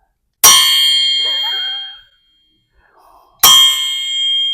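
A John Force drag racing crankshaft struck twice in a shop, each blow giving a loud bright metallic clang that rings on for over a second before fading, with a short quiet gap between the two strikes.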